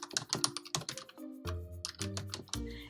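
A username is typed on a computer keyboard in a quick run of close, crisp key presses with short pauses, no voices.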